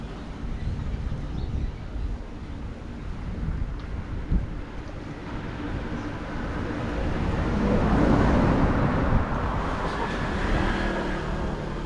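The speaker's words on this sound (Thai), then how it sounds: "เพราะว่าลมแรงมากตอนนี้" Strong wind gusts at a canal fishing spot as rain clouds approach, a steady broadband roar with rumbling mic buffeting that swells louder in the second half, no voices.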